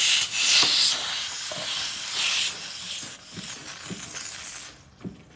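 Refrigerant fluid hissing out of a loosened air conditioner hose connection at the nut, a steady broad hiss lasting several seconds, with faint handling taps, then cutting off near the end.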